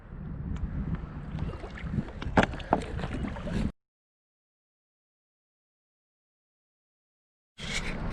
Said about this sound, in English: now I just gotta paddle back with all these.